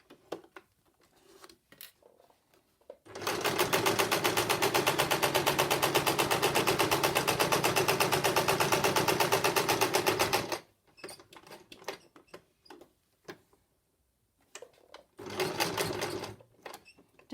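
A sewing machine stitches in a steady, loud, rapid rattle for about seven seconds, preceded and followed by scattered clicks and handling noises, with a second shorter burst of stitching near the end.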